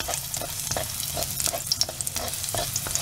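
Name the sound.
dried chillies roasting in a pan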